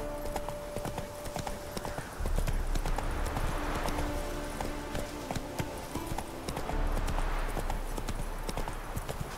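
Horse hooves galloping in The Witcher 3, a steady clip-clop rhythm that runs the whole time under game music, growing heavier partway through as the horse speeds up.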